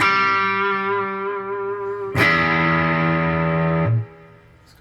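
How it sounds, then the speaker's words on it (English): Electric guitar with single-coil pickups through the crunch amp model of a Boss Katana-50 Mk II, two sustained distorted chords ringing out loud and alone, the second struck hard then cut off. "This is back to Mr. Crunch. I'm going to put it on my single coil emulation"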